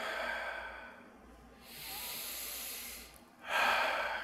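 During children's chair yoga, three slow, deep breaths come close to the mic. Each is a long, airy inhale or exhale separated by short pauses, and the final breath is the loudest.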